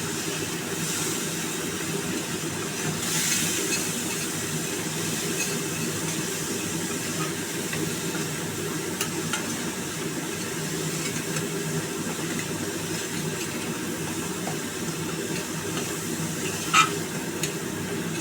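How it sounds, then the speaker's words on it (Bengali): Spice paste with chilli powder fries in oil for a pomfret curry, a steady soft sizzle and stir running throughout at moderate distance, with a brief clink near the end. "এবার মশলাটাকে একটু কষিয়ে নেবো"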